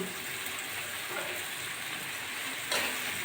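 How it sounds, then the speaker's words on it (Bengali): Potatoes frying in a pan, a continuous soft sizzle and crackle at moderate distance, with a brief louder burst of sizzling toward the end. "আলুগুলো আমি ভেজে নেবো"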